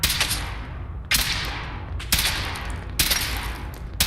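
Heavy weapon firing in the Fallout 4 video game, heard as four loud, booming blasts about a second apart, each followed by a long rumbling decay, close and with no talking.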